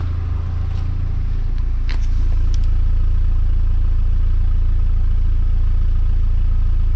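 A 2.0 engine in an old junkyard wagon runs steadily at close range, a low continuous rumble with a slightly uneven, stuttering pulse from a minor misfire. The idle rises a little early on and then holds, with a few faint clicks and clatters and no talking.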